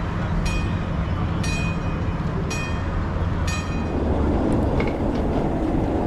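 A live steam miniature train runs at a small-scale railway meet with a steady rolling rumble and clickety-clack of wheels. Four evenly spaced metallic clanks or pings ring out over it, then a fainter, rougher stretch follows near the end.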